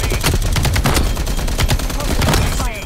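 Rapid bursts of gunfire in a Call of Duty: Black Ops Cold War multiplayer match, dense and loud, overlapping shots rattling continuously over busy game noise.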